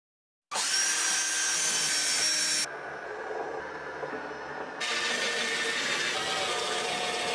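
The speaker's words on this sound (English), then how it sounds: "The rails were secured with a few screws." A power driver runs steadily while driving screws into the wooden rails of a table saw crosscut sled, a loud continuous whir that drops in pitch midway and then picks up again, with no talking.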